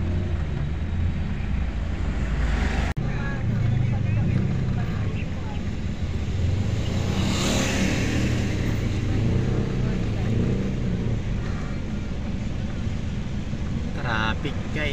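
Slow Sunday road traffic near Manaoag church gives a steady low engine rumble heard from inside a vehicle, with a sharp knock partway through and faint voices now and then.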